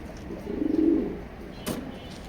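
A racing pigeon gives a short burst of throaty cooing up close, a quick pulsing run of low coos followed by a brief rustle.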